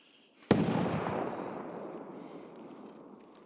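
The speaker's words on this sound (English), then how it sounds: "Those shots sound like grenade bursts." A single sharp blast, a gunshot or grenade burst in the shooter game Escape from Tarkov, cracks out after a brief quiet and trails off into a long, rumbling reverberant decay.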